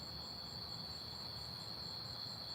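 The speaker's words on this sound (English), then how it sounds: "I know, the crickets. Everyone's loving the crickets." Crickets chirp steadily outdoors at night, a continuous high shrill trill holding even and moderately loud throughout with no voices.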